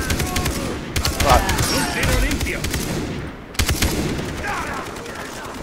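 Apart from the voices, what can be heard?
machine gun fire in the video game Far Cry 3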